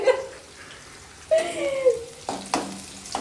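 Green chillies fry in a pan, a soft continuous sizzle under intermittent stirring clatter and brief tonal clinks, fairly close and moderately quiet.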